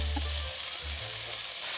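Half a pound of bacon sizzles while frying in a pan, a steady, close crackling hiss with a low hum beneath it throughout.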